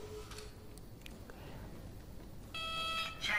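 Electronic alarm beeping inside an administration building in the video game Interstellar Marines, a steady repeated tone that starts abruptly and continues over faint ambient game sound.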